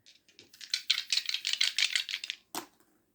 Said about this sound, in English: Oh, hang on, no, we haven't done the dice.